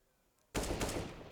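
AK rifle fire in the CS:GO game on Mirage bursts in suddenly after a quiet moment: a rapid, loud, sustained volley of automatic shots that rings on to the end.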